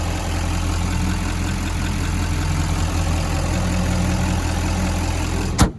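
A 2016 Chevrolet Silverado 3500 LTZ pickup's 6.6-liter turbo diesel engine idles steadily with a deep, throbbing low rumble that holds constant, ending with a brief sharp click.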